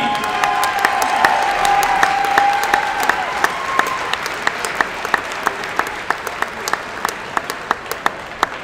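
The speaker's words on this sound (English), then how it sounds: "One more big round of applause for our Pontiac Unified Basketball Team." An audience at a high school varsity basketball game gives a sustained round of applause for a unified basketball team, with dense clapping and a few sharp individual claps standing out, fading somewhat toward the end.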